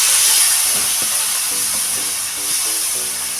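Yogurt-coated ash gourd dropped into hot frying spices of cashew, poppy seed, melon seed and cardamom, bursting into a loud, steady, close hissing sizzle with faint stirring knocks underneath.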